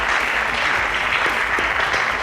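An audience at a school quiz competition gives a round of applause for the Nigerian Tulip team, producing a short, dense burst of clapping that stays steady throughout.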